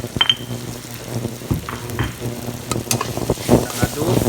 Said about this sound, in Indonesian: Kita aduk biar tercampur rata